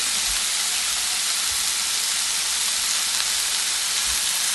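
A steak cooking in a pan gives a steady, dense sizzling hiss, loud and continuous throughout, with a few faint low thumps underneath.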